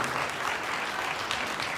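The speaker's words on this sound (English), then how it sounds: "Let's have a big round of applause for people that are seeking public office" A large audience at a community activist gathering claps steadily, a dense wash of hands applauding throughout without pause.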